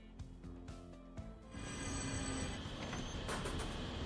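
Trains rumbling through a busy Nantes station in the game Transport Fever 2, with steady low rolling noise, brief clicks and faint wheel squeal, growing louder halfway through.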